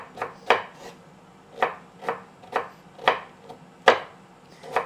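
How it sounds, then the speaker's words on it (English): A knife coarsely chops a vegetable for stir fry on a board, close and loud: about ten crisp, evenly paced cuts in a steady rhythm with no talk. "I'm cutting it quite coarse because I don't mind if it's a little coarse"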